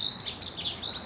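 A small bird, a pigeon-type species, gives soft repeated high chirps in a short run, fairly faint and alone over a quiet background.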